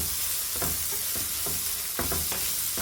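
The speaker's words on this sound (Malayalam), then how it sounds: "അതിലേക്ക് ഒരു 3 മീഡിയം സൈസിലുള്ള സവാള ചോപ്പ് ചെയ്തത് ഇട്ട് കൊടുക്കുക." Chopped onions, three medium ones, go into a pan of browned frying garlic for shakshuka, with a steady sizzle and a few scraping stirs of a spatula, fairly close.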